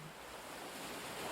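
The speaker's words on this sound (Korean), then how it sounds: "지금 파도가 칩니다." Ocean surf washes in as a steady, even broadband rush, a soft continuous roar of breaking waves with light wind noise and no voices.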